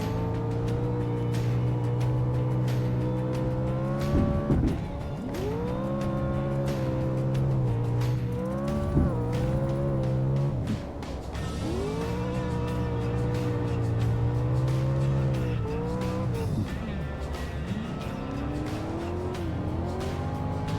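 Trophy trucks racing at Phoenix, engines revving and shifting in repeated rising and falling sweeps, heard loud and close from onboard as other trucks roar nearby on track.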